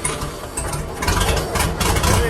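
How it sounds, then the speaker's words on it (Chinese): A 1938 Chevrolet Coupe engine, revived after decades abandoned, running loud and close with a rough, uneven low rumble and mechanical clatter throughout. "这一次发动机竟然成功启动"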